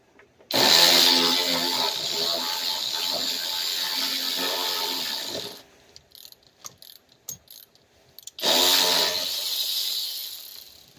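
A ratchet works loose a 10 mm bolt on a radiator of a 2003-2005 Lincoln Aviator with the 4.6L V8, giving long close bursts of rapid clicking with a short stretch of scattered single clicks between them.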